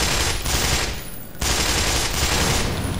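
Loud, sustained automatic gunfire from the Black Mesa: Source game rattles in dense rapid bursts, with one brief lull before the firing resumes at full volume.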